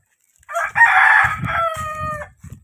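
A rooster crows loudly nearby, one drawn-out call followed by a few low clucks from chickens.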